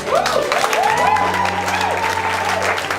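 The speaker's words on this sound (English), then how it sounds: "we have to give a round of applause and accolades to Mrs. Sonia Brown." Loud, continuous applause from a wedding crowd, with a sustained tone ringing underneath throughout.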